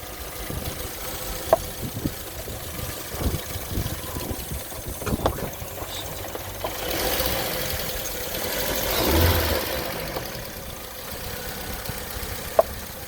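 A Suzuki Swift engine running without its airbox, giving a steady, loud, rough drone with small fluctuations and a few sharp clicks, close by and with no talk over it.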